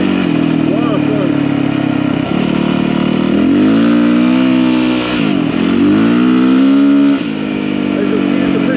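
Yamaha WR450 dirt bike ridden on a desert trail from Blair Valley to Ocotillo, its engine droning steadily and rising and falling in pitch through shifts, loud and close throughout.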